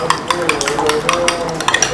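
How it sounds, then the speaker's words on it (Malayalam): A spoon beats egg and vanilla essence together in a bowl for a plum cake batter, giving quick, steady clinking and scraping strokes in a rhythmic run, close and fairly loud with no talk. "വെറുതെ ഇങ്ങനെ സ്പൂൺ കൊണ്ട് അടിച്ചൊന്ന് നന്നായി മിക്സ് ചെയ്തെടുത്താൽ മതി"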